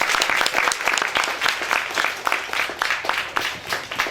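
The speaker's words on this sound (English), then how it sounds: "Round of applause for Kumu Kualukun." A crowd applauds steadily for several seconds, dense continuous clapping filling the space with no pauses.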